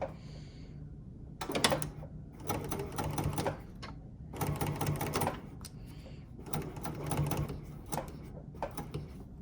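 A domestic sewing machine runs in short bursts of rapid stitching along a fabric edge, forward then backward, with quiet pauses between the four or five runs.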